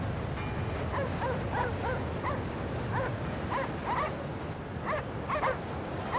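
A dog in the video game Cryostasis yips, barks softly and whimpers in a run of short, repeated cries over a low, hissing background, with no speech.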